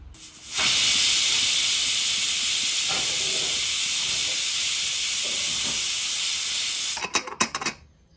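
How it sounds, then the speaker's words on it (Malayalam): A pressure cooker cooking green gram dal gives a loud, steady hiss of escaping steam for several seconds without a break, then cuts off into a few short sputtering bursts. "രണ്ട് വിസിലടിക്കുന്നത് നമുക്ക് വേവിച്ചെടുക്കാം"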